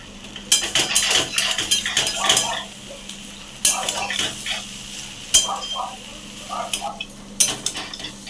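A spoon clinks and scrapes in a pan while ghot taro is mixed with turmeric, salt, cumin powder and ginger paste. The stirring comes in close, bursty strokes with brief pauses between them, and a soft sizzle sits underneath.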